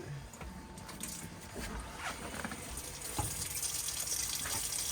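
Hot water runs from the kitchen tap in a Hymer Exsis T588 motorhome, a steady hissing splash with small clicks and clatters throughout.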